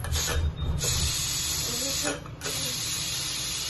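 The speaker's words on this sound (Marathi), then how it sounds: "वाफ जायला पाहिजे" Hissing steam escapes from a kitchen mixer jar of freshly blended hot soup, a steady close rush that dips briefly twice, with a low hum and faint voices underneath.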